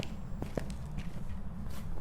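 Footsteps in the horror game Phasmophobia, a few soft, faint steps with light clicks spread over a couple of seconds against a steady low background hum.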